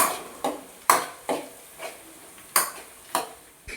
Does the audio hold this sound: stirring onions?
yes